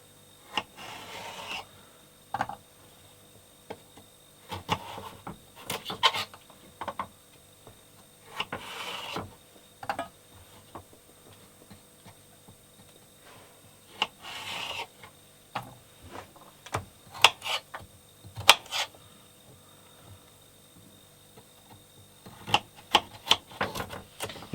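A kitchen knife slicing carrots on a cutting board, heard as irregular bursts of crisp cuts and taps separated by short pauses, fairly close and with no talking.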